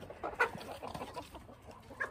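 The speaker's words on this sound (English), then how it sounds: "you hear all the chickens running around me." Hens on a homestead run around close by, clucking and shuffling, soft scattered bird calls with a couple of sharper squawks, no talking.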